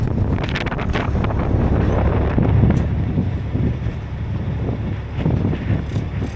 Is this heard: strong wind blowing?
yes